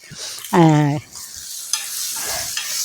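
Hot oil in a frying pan on a small stove gives a steady hiss and sizzle, with a short tonal squeak near the start and soft stirring.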